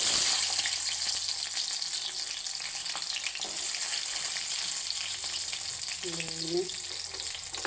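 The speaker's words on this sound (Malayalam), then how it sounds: "കൊച്ചുള്ളി ഇടാം." Shallots frying in hot oil with fenugreek seeds and black pepper, a continuous close sizzle with faint stirring, under a brief spoken word and a short tonal sound near the end.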